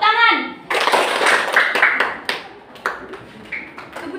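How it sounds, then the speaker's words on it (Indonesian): Students clapping their hands in a classroom, a burst of scattered claps mixed with children's voices and a teacher talking over them. "Oke, tepuk tangan."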